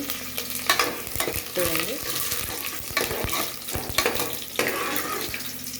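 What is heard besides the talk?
curry leaves frying and being stirred in a pan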